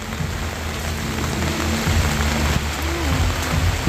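Steady rain pours down outdoors, a dense continuous hiss of drops on surfaces with occasional faint tonal sounds underneath.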